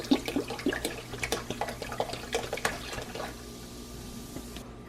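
Orange soda pours into a pot for a seafood boil, a bubbly, splashy stream of liquid with fizzy pops, close and fairly quiet, tapering off over the last second or so.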